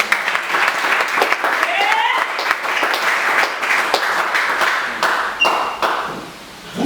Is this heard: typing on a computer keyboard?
no